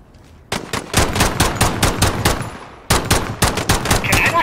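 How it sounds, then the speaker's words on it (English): Automatic gunfire in a shooter video game rattles out in two long, rapid bursts of sharp, loud shots with a brief pause between them. "Gunfire."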